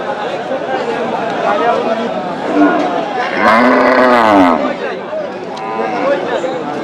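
Cattle moo at a rural cow market in Panchagarh, Bangladesh, with one loud drawn-out bellow near the middle over the constant chatter of a crowd and people talking nearby.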